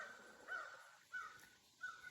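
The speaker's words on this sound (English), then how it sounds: "The crows are looking for food." Crows caw three times at a steady spacing, faint and distant against a quiet outdoor background, with no voices.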